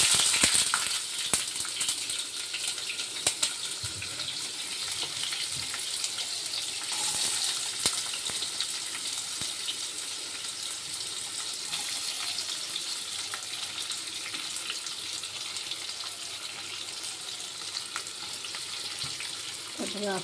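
Onions sizzle in hot oil in an iron wok, a steady bright crackling hiss that runs continuously, with occasional stirring clinks and scrapes.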